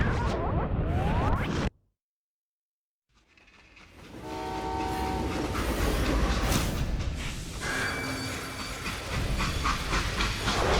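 A freight train in the Western shooter Call of Juarez: Gunslinger rumbles and hisses with steam at length, broken by a brief silent gap, with faint tonal squeals like brakes or a horn.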